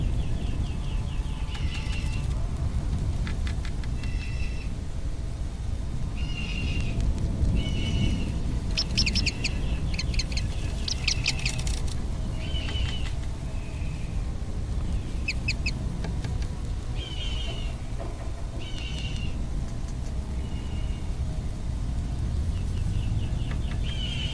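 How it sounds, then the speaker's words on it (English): Chimney swift chicks give repeated harsh, chattering begging calls, close and fairly loud, over a constant low rumbling background. "mistake the flapping for the wings of the parents coming in with food and begin their begging call"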